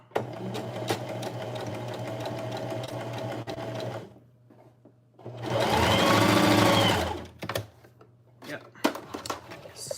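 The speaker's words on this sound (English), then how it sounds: "my machine is sewing in a straight line" Sewing machine stitching a straight line on denim, steady close whirring runs of rapid needle clatter with a pause between bursts, a voice talking over it at times.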